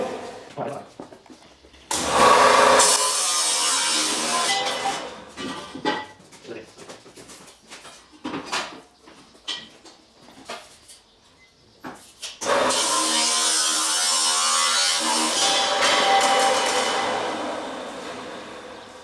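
An angle grinder's cutting disc slices through metal tubing for a tricycle build, a loud sustained hiss-whine in two long bursts with a patchy stretch of handling noise and knocks between them.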